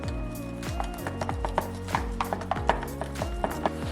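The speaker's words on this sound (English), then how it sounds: "So I'm gonna mix it with this stir stick I had laying around." A stir stick mixes TotalBoat penetrating epoxy in a container, giving close, repeated scraping and knocking strokes at a quick, steady rhythm with no talking.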